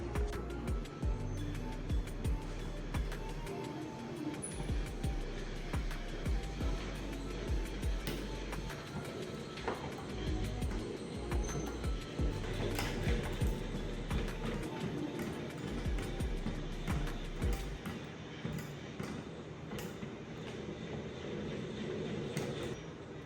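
A borrowed honey extractor spins frames of lavender honey, filling the space with a steady, loud mechanical whir and rattling hum that stays continuous throughout, with low thumps underneath.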